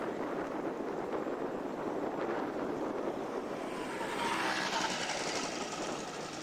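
Steady roar of aircraft engines as planes taxi and land at a 2001 airshow, mixed with wind noise on the microphone, swelling slightly louder toward the end.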